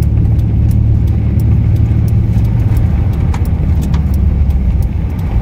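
A car drives along with a steady, close engine and road rumble, broken by faint light ticks, and no one speaks.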